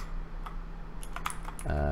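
Quick, light keystrokes on a computer keyboard, a short burst of separate clicks at low volume over faint background hum, ending in a brief louder tone.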